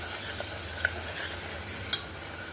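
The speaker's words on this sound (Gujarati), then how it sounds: "લસણિયાને 2 મિનિટ માટે આપણે શેકી લઈશું" Garlic paste made with cumin, salt and water roasts in a pan, giving a faint, steady sizzle with a couple of soft stirring clicks.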